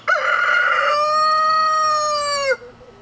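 A single loud, close rooster crow rings out among backyard chickens, one long sustained call that breaks off sharply, with faint clucking beneath.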